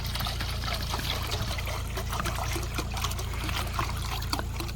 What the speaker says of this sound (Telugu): కడుక్కొని గిన్నెలోకి అయితే నీళ్ళు వంపేసుకుంటున్నానండి